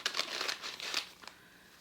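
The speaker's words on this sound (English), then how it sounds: "I've got a paper bag." A paper bag is handled and crinkled up close, giving a short flurry of crisp, rustling crackles that fade out after about a second.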